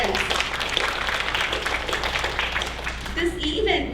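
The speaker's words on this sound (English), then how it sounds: "So again, a round of applause for all the volunteer parents." An audience at a Bharatanatyam arangetram applauds the volunteer parents, with steady dense clapping at moderate volume and a few voices rising near the end.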